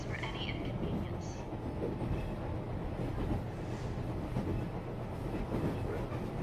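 A train runs through snow, giving a continuous low rumble and rattle of the wheels at moderate volume, with faint indistinct sounds over it.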